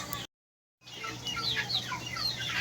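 Chickens and two-month-old chicks in a small backyard poultry yard, soft clucking and chirping at moderate distance after a short dropout of silence near the start.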